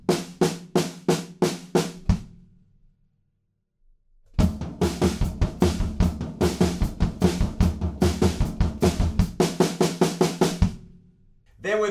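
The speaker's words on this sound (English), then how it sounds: "this time we have this straight eighth snare drum fill that goes just like this" Drum kit playing a straight eighth-note snare fill from a song: loud, evenly spaced snare hits in a steady run, with a short pause and then a longer sustained stretch of driving strokes, no talking.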